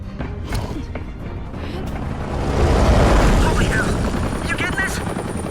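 Helicopter in the Batman Telltale video game, a steady rotor roar that swells louder midway with crashing impacts and effects layered over it, while a voice talks over the scene.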